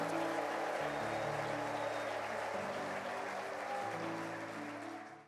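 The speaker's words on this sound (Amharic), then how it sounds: "እልልታ፣ ጭብጨባ፣ ምስጋና ለጌታ" A church congregation at a New Creation Church service applauds loudly and steadily over sustained keyboard-like musical tones. The crowd noise stays dense for about five seconds before fading quickly at the end.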